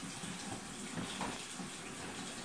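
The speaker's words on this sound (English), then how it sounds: "I'm going to wash the chicken thoroughly with water" Raw chicken is rinsed under a running kitchen tap, giving a continuous steady gush and splash of water with slight shifts as the meat is moved through the stream.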